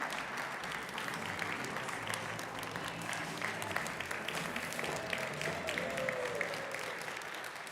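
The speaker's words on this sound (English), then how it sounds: "Another round of applause," A large audience at the Guidewire Connections live event gives steady, dense applause lasting several seconds, a continuous even roar of clapping with a faint voice or cheer rising briefly near the end.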